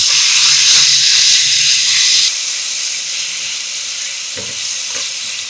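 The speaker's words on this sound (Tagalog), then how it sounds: "Mag-gisa tayo ng sibuyas. Sunod naman yung bawang. Tapos yung giniling." Onion, garlic and ground meat sauté in a hot pan, giving a loud, continuous sizzling hiss close up that eases slightly partway through, with faint stirring knocks and no speech.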